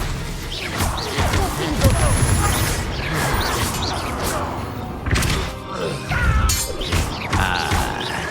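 An Expelliarmus spell cast in Hogwarts Legacy, heard as loud clashing magical impacts with thuds, crashes and shattering bursts over busy battle noise. Brief bits of speech are mixed in.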